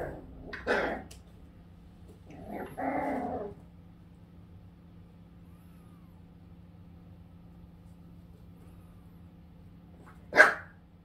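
A few separate dog barks, two muffled yaps early on and one sharp, loud bark near the end, with quiet background between them.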